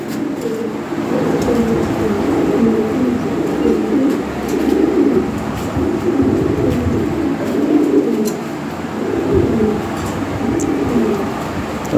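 European Lahori pigeons coo continuously, soft low burbling calls overlapping one another in a steady, rolling rhythm without pause.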